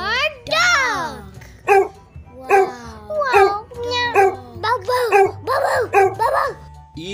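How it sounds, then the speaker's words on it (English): Several short, high dog barks and yips repeat in quick bursts, mixed with a voice in an alphabet phonics song. "D for dog."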